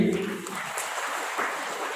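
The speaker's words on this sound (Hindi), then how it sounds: "सब जिन्होंने कहा उनके लिए जोरदार ताली बजाइए।" Audience at a school parenting talk at a Jawahar Navodaya Vidyalaya breaks into loud, continuous applause, a dense steady wash of clapping filling the hall for the whole stretch, with a voice briefly heard at the start.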